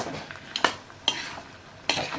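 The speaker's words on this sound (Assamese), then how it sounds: "এতিয়া আমি এই মাংসখিনি ঔটেঙা দিয়াৰ পিছত ভালদৰে লৰাই ল'ম।" Pork cooked with elephant apple fried dry in a pan with little oil, stirred with a utensil that scrapes and clinks against the metal in a few distinct strokes over a soft background sizzle.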